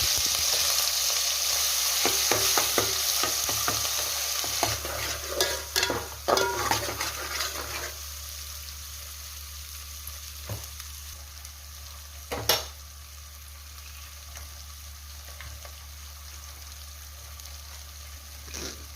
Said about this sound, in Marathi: आता त्याच्यावर वाटण टाकून थोडंसं परतवून घ्यायचं आहे तेलामध्ये